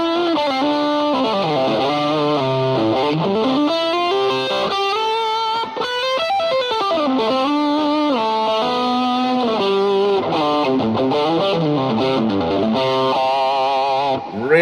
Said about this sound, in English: And the Timmy, which is going to be the main drive, I really like the transparent sound.